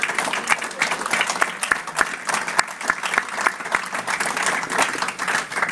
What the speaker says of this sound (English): Hey guys, before we go, if you get a big round of applause for Dan and Lee and John over there.